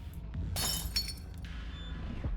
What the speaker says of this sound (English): The window shatters.